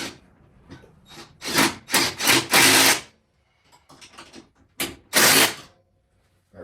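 Bolts on a Coleman AT 200-B ATV being tightened with a ratchet during assembly, close repeated rasping clicks in short bursts separated by pauses.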